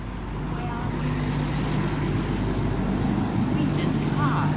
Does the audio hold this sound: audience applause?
no